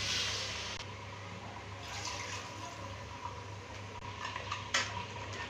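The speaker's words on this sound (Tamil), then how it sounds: "இப்போ ஒரு ரெண்டு டம்ளர் தண்ணி ஊற்றிக்கலாம்." Two tumblers of water are poured into a cooking pot of goat head gravy, giving a soft, steady rush and splash that fades into faint kitchen clatter.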